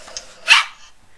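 A puppy gives one short, sharp bark, close and fairly loud, over a quiet background with no talking.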